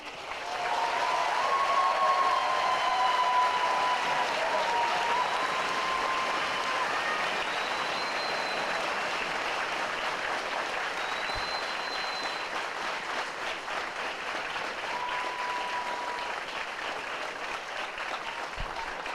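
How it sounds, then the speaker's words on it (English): Audience applause at a U.S. Army retirement honor during a graduation ceremony, a broad steady roar of clapping lasting the whole stretch, loud at first and easing slightly toward the end, with faint tonal sounds drifting over it. "Please join me in a round of applause for our retiree and his family."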